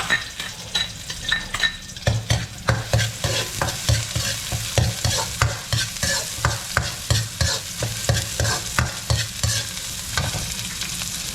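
Garlic frying in a pan as a utensil stirs it in regular scraping strokes, each one clattering over a constant close sizzle, with no voices.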